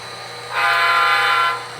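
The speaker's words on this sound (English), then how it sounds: "Always got a honk for the horses here" A model GP38-2 diesel locomotive hauling box cars sounds its horn once: a steady, bright, fairly loud honk of about one second that rises and fades over a faint background hum.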